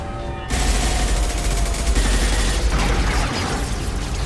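Heavy automatic gunfire from a firefight in the video game Mass Effect Legendary Edition, a loud, dense, continuous barrage of shots and blasts that starts abruptly after a brief quieter moment and rolls on without pause.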